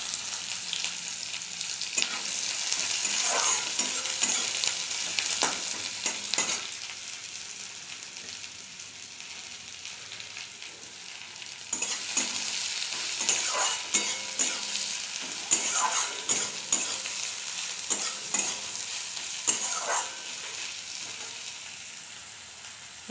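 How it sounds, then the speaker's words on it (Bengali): Chopped onion with whole cumin seeds frying in a pan, a steady, close sizzle and crackle with intermittent scraping stirs, running continuously with no voices. "পেঁয়াজটা আমি ভেজে নেব।"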